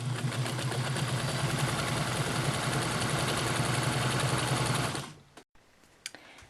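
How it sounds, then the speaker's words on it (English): A sewing machine stitches a T-shirt in one steady, fast, whirring run of needle strokes for about five seconds, then stops abruptly, leaving a few faint clicks. "you can step on your foot pedal and let the machine do the work"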